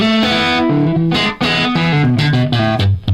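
Electric guitar played through an echo effect, loud strummed chords and changing notes with a slightly distorted, ringing tone over about three seconds, with no voices.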